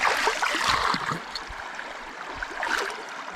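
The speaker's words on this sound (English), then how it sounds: "Fill it up real quick. I'm just gonna rinse it out." River water gurgling and splashing as a container is rinsed and filled beside the Deschutes River at a campsite, close trickling bursts with brief pauses between.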